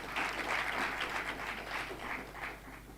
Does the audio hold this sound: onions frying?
no